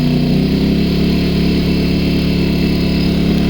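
An AYERBE 1200i inverter generator runs under a 1 kW load, its engine droning loud and steady with a constant low rumble and no pauses.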